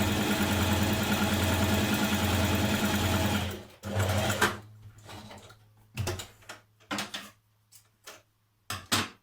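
A sewing machine stay-stitches dress pieces in one long steady run, then stops and starts in a series of short bursts separated by near-silence.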